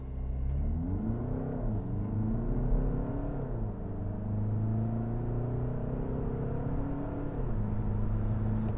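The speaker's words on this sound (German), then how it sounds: "Ich bewege mich jetzt erstmal in den Sportmodus, weil ich beschleunigen möchte hier für euch." A 2021 Skoda Kodiaq Scout 2.0 TDI diesel SUV with 4x4 and a DSG gearbox accelerates at full throttle in sport mode, its engine droning and rising in pitch with a gear change midway; no talk.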